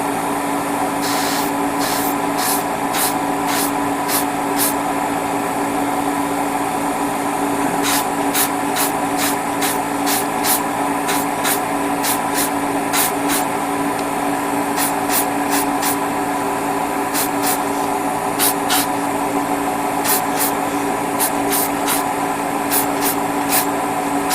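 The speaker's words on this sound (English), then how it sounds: "since I'm not spraying from the back, I'm going to spray from the front" A continuous airbrush hiss runs beneath a steady compressor drone, broken by many short, quick spray bursts in clusters, painting Bandai Yamato plastic model kits.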